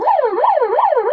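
A loud, close electronic siren fitted to a modified Maruti Alto car wails up and down in a fast repeating yelp, cycling about three times with no other sound.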